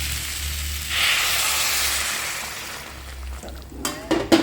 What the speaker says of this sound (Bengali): তারপর এর মধ্যে দিয়ে দেবে একদম ফুটন্ত গরম জল।